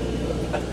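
An elevated L train rumbles overhead, heard from a tour bus parked beneath the tracks: a brief, steady low rolling drone with faint metallic grinding on top.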